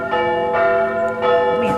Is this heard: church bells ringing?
yes